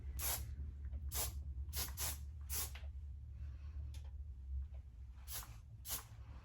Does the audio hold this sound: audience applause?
no